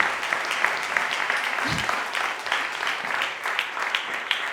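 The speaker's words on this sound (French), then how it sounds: "Applaudissez-moi, s'il vous plaît, aussi." Audience applause at a fashion show in Limoges: steady, dense clapping from a crowd that fills the whole stretch at an even, moderately loud level.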